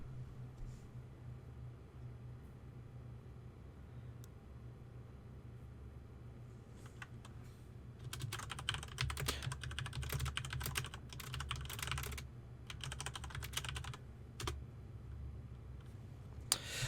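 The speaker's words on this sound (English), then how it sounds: "Can you see me typing here?" Computer keyboard typing at a desk, faint background hum first, then a stretch of rapid clattering keystrokes in dense bursts, fairly quiet and close.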